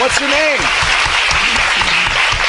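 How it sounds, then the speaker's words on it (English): An audience at a MacWorld Expo tech show applauds in a dense, close burst while a speaker's voice carries over the clapping. "Give a round of applause"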